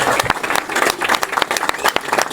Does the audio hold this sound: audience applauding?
yes